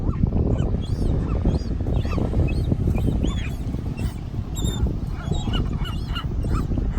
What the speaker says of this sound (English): literally just barking.